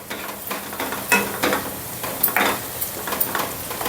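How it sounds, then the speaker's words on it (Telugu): Masala of onions and green chillies frying in oil in a pan, a steady sizzle broken by repeated louder scraping strokes of a stirring spoon, close and with no talking. "ఇది బాగా నూనెలో వేగనిద్దాం దీన్ని మసాలాని"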